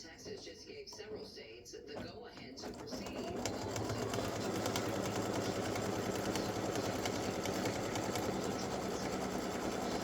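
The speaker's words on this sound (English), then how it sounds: "color stop number 6 is going to tack that down and create a seam for you." An embroidery machine stitches a tack-down seam on a fabric mug rug, its steady rapid mechanical whir starting up after a quieter moment and running continuously, close and fairly loud.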